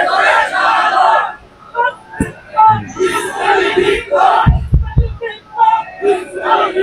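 A large crowd of young men roars a takbir battle cry at a religious gathering, loud surging shouts rising and falling in waves, punctuated by a few heavy thumps mid-way.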